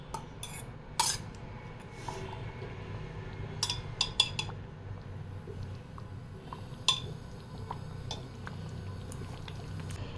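Boiled corn is mixed into spinach and cream in a pot, soft bubbling and low cooking noise under scattered clinks and scrapes of a spoon against the pan, fairly quiet throughout.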